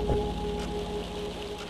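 Rain coming in through windows in the game Don't Fret, a steady, soft hiss of falling water held at an even level for the whole stretch, with a low tonal hum beneath and no voices.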